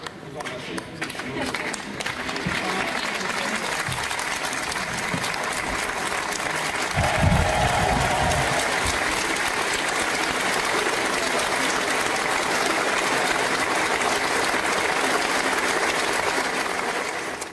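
Prolonged applause from ministry staff for departing ministers at a 2017 French government handover, including former agriculture minister Stéphane Le Foll; a continuous, even wash of many hands clapping, sustained at steady volume for the full duration.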